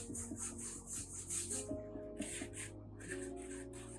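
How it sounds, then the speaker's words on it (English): A paintbrush sweeping in broad strokes across a canvas while painting a flamingo, soft rhythmic rubbing swishes repeating close up, faint and steady with no talking. "I'm taking big strokes all the way across my canvas"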